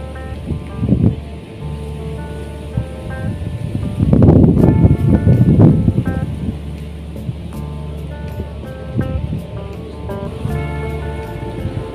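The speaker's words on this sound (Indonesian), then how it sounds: "hari ini badai istimewa bro, anginnya nggak mau diem" Strong storm wind buffets an outdoor fishing pond in a steady, close roar, swelling into a heavier, louder gust midway before settling back to a constant rush.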